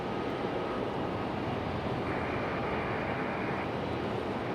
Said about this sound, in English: We're going to have some rapid fire departures here.